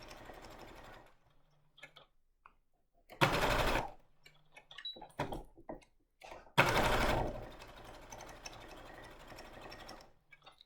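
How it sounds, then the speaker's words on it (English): A sewing machine stitches a fabric coaster in two short bursts of rapid, even needle chatter. Between the runs come quiet pauses with soft handling noises as the work is pivoted. "Just turn it around and then keep sewing."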